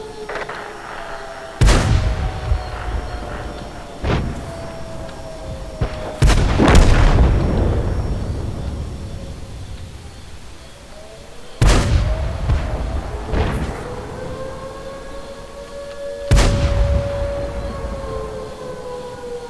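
Tank cannon shots boom in a video game battle involving a Cromwell B, five sharp blasts spaced several seconds apart, each with a long echoing tail over a droning engine hum.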